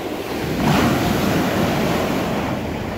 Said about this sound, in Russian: еще и волна усиливается.